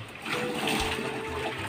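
Water splashes and pours continuously while something is rinsed, a close, brief gush.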